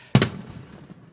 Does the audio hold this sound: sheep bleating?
no